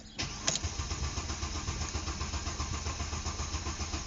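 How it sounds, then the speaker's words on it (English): A Mercedes ML350 engine cranks briefly and catches, then settles into a steady, rumbling idle close by. "Try starting the car again."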